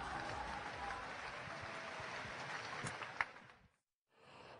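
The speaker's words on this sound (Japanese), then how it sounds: "前線した北海道最強にも大きな拍手" Audience applause at a Street Fighter IV arcade tournament in Japan, a dense steady wash of clapping and crowd noise that fades out near the end, followed by a brief quiet gap and then renewed crowd noise.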